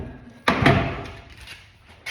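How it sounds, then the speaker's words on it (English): A large shop door bangs open with a loud rattling clatter, then rumbles and fades away, followed by a smaller knock at the end, in a garage workspace. "I need to open this door, see if I can roll this truck in here."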